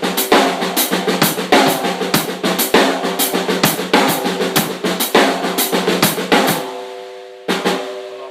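A steady drum kit groove with crisp hi-hat and snare and repeated kick drum hits, including an extra bass drum on the 'e' of beat four, loud and up close, then stopping before one final hit.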